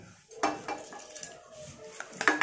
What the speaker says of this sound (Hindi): अभी मैं इसमें चावल दे दे रही हूँ